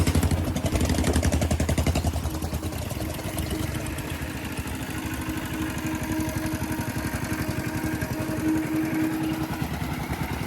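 A motorcycle engine idles steadily with a fast, even throbbing putter, close and continuous throughout, near a railway station bridge in Sonarpur.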